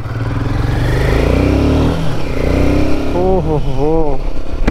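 Royal Enfield Himalayan 450 motorcycle riding on the road from Amritsar toward Srinagar, its engine loud and close, rising and revving as it pulls away, with a rider's brief voice calling out over it.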